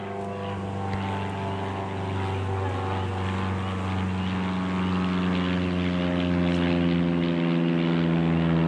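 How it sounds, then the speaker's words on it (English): A low-flying propeller airplane drones overhead outdoors, a loud steady engine hum with strong harmonic buzz that swells slightly as it passes near. "Look at the airplane. It's real low."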